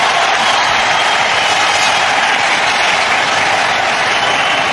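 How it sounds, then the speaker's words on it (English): A cricket crowd in 1998 cheers a boundary four struck by Sachin Tendulkar off Henry Olonga, a loud, dense and continuous roar of applause and shouting from a large stadium audience. "That's got the crowd to their feet."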